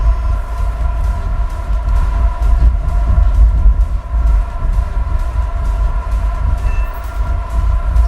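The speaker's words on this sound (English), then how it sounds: "That's some big train." Big train in a combat video game rumbles past in a steady, loud, low drone with a throbbing rhythm and a faint horn-like tone, continuous and close with no voices over it.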